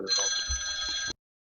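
A telephone rings for an incoming call, one short electronic ring burst of about a second that cuts off abruptly into silence.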